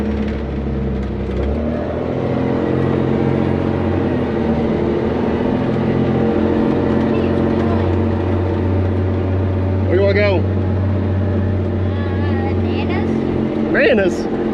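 A six-wheel-drive dump truck's engine drones and hums steadily under load, with the pitch sweeping up at gear changes into second and third. Brief voices are heard over it.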